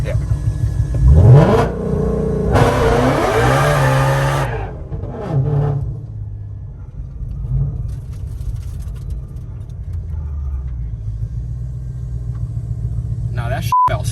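A 2020 Shelby GT500 built to run eights launching with wheels spinning: a loud rising engine roar that climbs through revs, then drops to a lower rumble and idle, with occasional voices.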